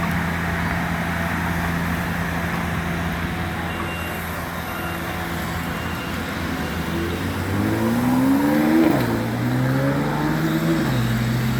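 Heavy concrete trucks idle and move at a city intersection under construction, a loud continuous engine rumble with a revving rise and fall near the end.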